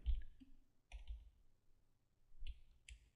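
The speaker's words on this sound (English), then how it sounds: "Notice I'm kind of rolling my mouse ball as I'm dragging" A computer mouse clicks softly at a desk, with a handful of sharp, quiet clicks that come in pairs spaced a second or more apart against near silence.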